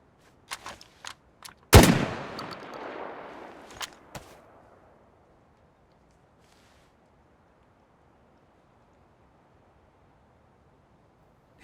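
Gunfire in the video game Descent: a few sharp isolated shots, then one loud blast with a decaying tail, followed by a couple more single shots before the sound fades to near silence.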